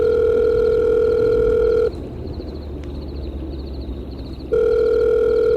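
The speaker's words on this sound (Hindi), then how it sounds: "मैं रोशनी को फोन लगाती हूँ।" A phone ringback tone: a steady electronic tone, a pause of about two and a half seconds, then the tone starts again.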